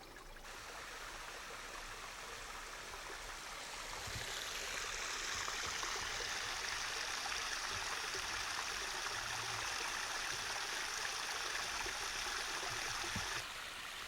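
A rainforest creek flows in a steady, close rush of water with constant gurgling and splashing, growing slightly louder partway through and continuing without pause.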